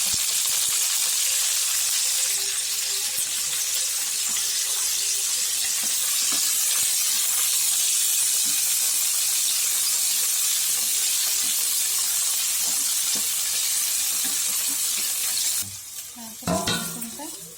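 Poi saag greens with shrimp frying in a pan, a steady loud sizzle and hiss that runs throughout, with occasional stirring and a brief clatter near the end.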